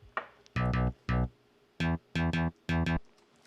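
Yamaha DX7 synth bass line from a song, played alone: short punchy plucked notes in a bouncy pattern of about six hits, bright and close with quiet gaps between.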